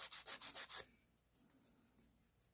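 Hand file rubbing across the top of acrylic nails to bring down bulk, a quick run of about six close, rhythmic rasping strokes, then fainter scattered scratches with no talking.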